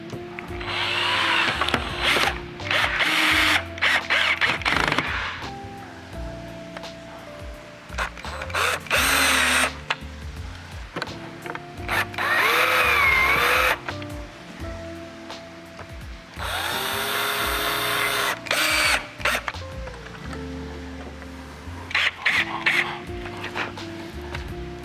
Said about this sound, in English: Screw them in.